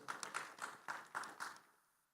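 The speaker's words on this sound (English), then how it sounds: "Thank you. Round of applause," A few scattered claps from a small audience at a governance panel discussion, about seven distinct, fairly faint hand claps in loose rhythm before trailing off into quiet.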